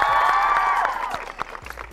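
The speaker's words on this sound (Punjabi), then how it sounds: "ਜ਼ੋਰਦਾਰ ਤਾੜੀਆਂ ਕਿਸਾਨ ਭਰਾਵਾਂ" An audience at a women's college event in Jalandhar gives a short round of applause. A sustained tonal sound opens it, then the clapping thins out into scattered claps.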